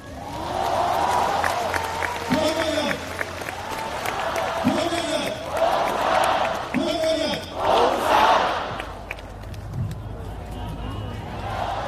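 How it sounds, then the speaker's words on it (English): A large crowd at a Hong Kong rally roars and cheers in repeated swelling waves, with shouted chants and clapping mixed into the dense babble, while a nearby voice talks over it. "I don't know if you've seen how big the crowd is."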